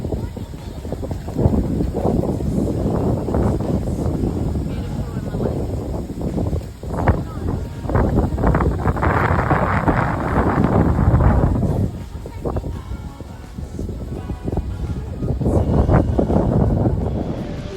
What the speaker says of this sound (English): And it is very, very windy today.